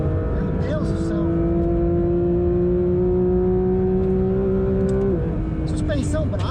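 The engine of a Porsche 911 GT3 RS 992 drones loud and close while driving, its pitch climbing slowly for several seconds before dropping sharply near the end. Someone speaks over it.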